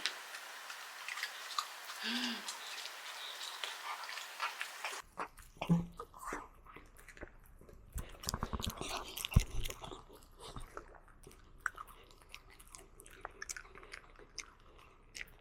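An 11-year-old dachshund chewing food indoors, soft close crunching and mouth sounds repeated in bursts, with occasional quiet voices nearby.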